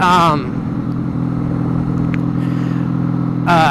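A truck passing by on the road, a loud, steady low engine rumble close by that holds for several seconds, with brief bursts of a voice at the start and end.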